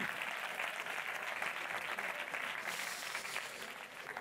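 A crowd at a film festival closing gala gives sustained, even applause: a steady wash of clapping that sounds somewhat distant and soft, with no voices standing out.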